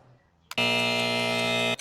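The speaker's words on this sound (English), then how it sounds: "please remain silent until the buzzer goes off" A single harsh electronic buzzer sounds loudly and steadily for just over a second, then cuts off abruptly, in an otherwise quiet room.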